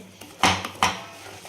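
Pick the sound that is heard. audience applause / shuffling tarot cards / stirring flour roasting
stirring flour roasting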